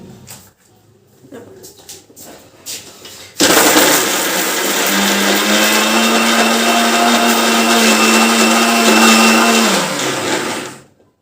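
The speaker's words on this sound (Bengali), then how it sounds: "এটা আমি মিক্সির মধ্যে বেটে নেব" A kitchen mixer grinder blending ingredients: after a few seconds of quiet handling clicks, the motor starts abruptly and whirs loudly and steadily, its pitch dropping slightly as it spins down at the end.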